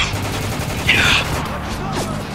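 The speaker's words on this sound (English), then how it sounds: "Point blanking with a sniper" Sniper rifle fire in the video game Spec Ops: The Line, a sharp loud shot burst near the middle over continuous battle noise and background voices.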